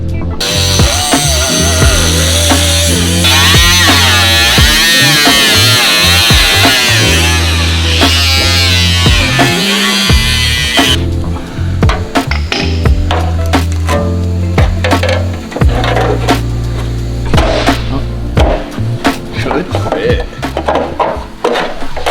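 Cutoff wheel plunging through car body panels on an R34 Skyline during restoration, a loud, continuous, close grinding whine with shifting pitch that runs for the whole stretch.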